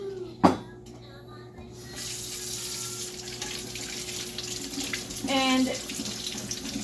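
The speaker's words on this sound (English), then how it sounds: "So the first thing we're going to do is take these berries and we're going to wash them." Tap water runs into a kitchen sink while fresh berries are washed, a steady hissing stream after an initial clunk, swelling louder near the end as hands move through the water, with a brief word spoken at the start.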